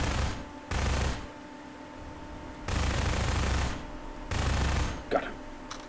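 Half-Life 2 gunfire: three loud bursts of rapid automatic fire, each about half a second to a second long, separated by quieter stretches of game ambience.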